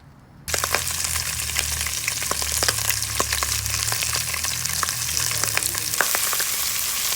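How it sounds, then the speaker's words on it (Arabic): A small amount of oil frying mesmasmouta-style meat, starting after a brief quiet moment and then holding a steady, close crackling sizzle with scattered sharp pops throughout. "هاي حطيت كمية من الزيت قليلة وراح أقليه."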